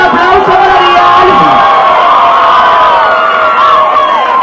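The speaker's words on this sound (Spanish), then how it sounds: "Fuerte el aplauso para Adrián." A big crowd in Madrid in 2012 roars for Adrián, giving a continuous loud wall of cheering, whoops and excited screams.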